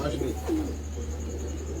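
A pigeon coos in a loft, a short low burble near the start and another in the first second, over a steady low hum.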